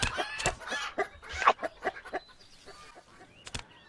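Chickens cluck in a virtual reality game where the player pecks feed with a chicken's beak, a run of short, lively clucks and calls that thins out toward the end.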